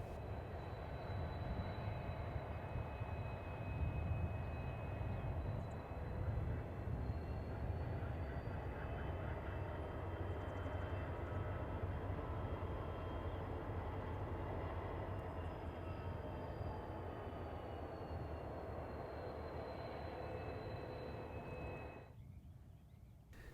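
A Union Pacific work train led by SD70M locomotive 1979 rumbles past at a distance, a steady low drone with faint high tonal squeals above it that fades out near the end.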